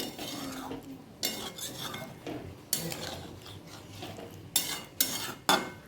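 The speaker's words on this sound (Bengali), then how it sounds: "জল দিয়ে ভালো করে নাড়াচাড়া করে এবার ফুটতে দেবো" A spoon stirs chicken gravy in a pot after water is added, for Mughlai chicken, with sharp metallic scrapes and clinks against the pot coming in irregular bursts over a soft background.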